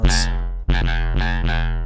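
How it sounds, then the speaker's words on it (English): Bass synth playing a basic wavetable patch shaped like a distorted sine wave, a loud buzzy harmonic tone sounding in several sustained notes with short retriggers, alone with no voices. "Kind of a basic wavetable, as you can see, kind of almost a distorted sine wave"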